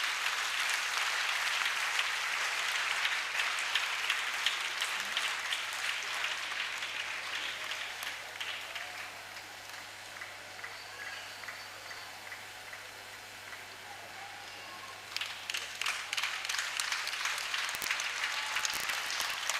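A church convention audience in Togo applauds at length, dense sustained clapping that thins toward the middle and swells again near the end, with a steady low hum beneath.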